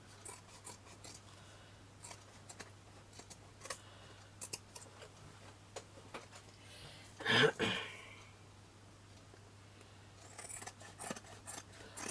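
Scissors snipping excess craft material off a trinket box: a run of small crisp snips spread through the clip, with a louder rustling scrape midway, close and quiet, with no speech.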